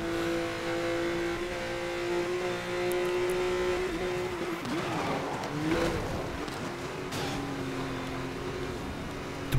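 Porsche engine from Need for Speed Most Wanted (2012), a loud sustained drone with revs rising and a couple of quick shifts, plus a burst of crash and scrape noise midway, no voices.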